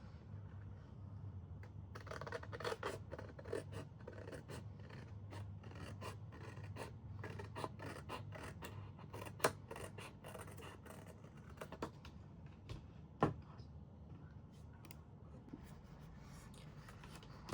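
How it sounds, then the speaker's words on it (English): Scissors cutting paper along a score line while making a handmade money envelope, a run of close, quiet crisp snips and rasping slides with paper rustle, two louder clips near the end, no talking. "Then we will cut down along the score line"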